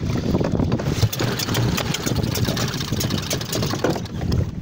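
A Seagull outboard motor on a dinghy sputters and struggles to run, giving a rough, uneven, close-up chugging rumble over wind and water noise, without settling into a steady beat.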